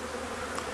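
Package bees hum at a Langstroth hive, a brief, steady, close buzz with no talking.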